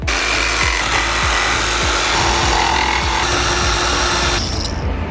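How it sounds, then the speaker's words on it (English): Jigsaw cutting freehand through wooden cladding for a van ceiling, a loud continuous buzzing saw with rapid repeated stroke pulses, close up, ending with a slight change in tone near the end. "It's not a bad freehand cut with a jigsaw"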